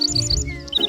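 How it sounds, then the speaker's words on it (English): Short bursts of high chirping birdsong, a few bright repeated tweets with a brief pause before a second run of notes, sounding fairly close over a soft low background hum. "That's a bird singing."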